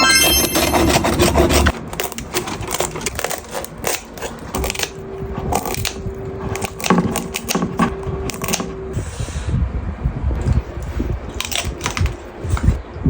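Crispy roast suckling pig, ordered in from Korat, is eaten in a steady run of close, loud crunching bites and chewing, with no talking.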